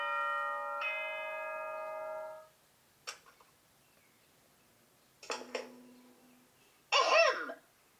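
A game character clears their throat with a short "ahem" in Danganronpa 2, heard as a few brief clipped bursts that follow a sustained chime-like tone and end in a louder final burst.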